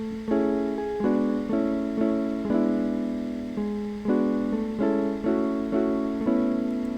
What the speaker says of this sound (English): I then layered it again in a lower octave in an acoustic guitar,